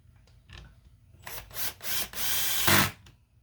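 A 2.5 mm wrench tightens cap-head bolts holding the bulkhead to a Traxxas RC car chassis, making close ratcheting and grinding bursts that build into a louder sustained run, with no talking.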